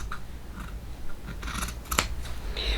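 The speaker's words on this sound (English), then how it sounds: "I am simply going to snip them out." Scissors snip through a Dollar Tree dish mat in a few close, crisp cuts spaced irregularly over a couple of seconds, with no talking.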